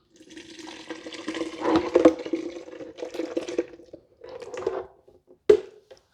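Hot bacon cheddar potato soup pours into a container in uneven glugging, sloshing bursts, with a few pauses and a sharp knock near the end, close and fairly loud.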